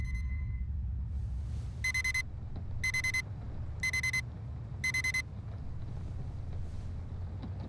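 An electronic alarm in the video game Radiant One beeps four times at an even one-second pace, bright and clear above a low rumbling background.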